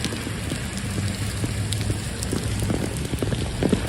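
Heavy rain pours steadily over New York City streets during flash flooding, a dense continuous hiss with scattered close drips and splashes, no talk.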